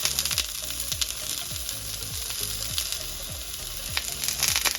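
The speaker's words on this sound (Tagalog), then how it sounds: "piprito muna natin itong ating mga patatas saka yung kamote" Potato and sweet potato chunks fry in oil with a dense, continuous crackling sizzle, close and fairly loud, over a rhythmic low thumping that pulses steadily underneath.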